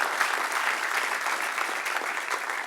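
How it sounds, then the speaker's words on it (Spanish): Church congregation applauding during a Spanish-language sermon, a dense, steady wash of clapping that lasts a few seconds at moderate volume with no voices over it. "Dale un aplauso al que reina."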